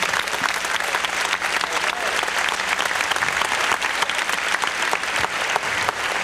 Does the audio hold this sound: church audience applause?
yes